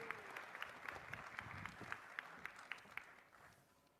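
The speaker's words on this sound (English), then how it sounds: "can we have a big round of applause for Professor Foskett?" An audience at a Young Chef Olympiad ceremony in India applauds with faint, distant, evenly paced claps in a steady rhythm that slowly fade.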